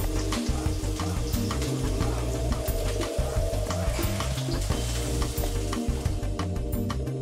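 Rustic chunks of mushroom sear in a hot frying pan, giving a steady close sizzle and crackle with faint rhythmic stirring and scraping underneath, no voices.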